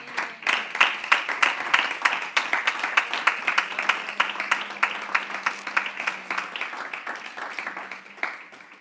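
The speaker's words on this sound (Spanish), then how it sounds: "Denle un aplauso de verdad." A church congregation claps during a Sunday service, many hands producing a brisk, fairly even stream of claps at moderate distance, tapering slightly toward the end.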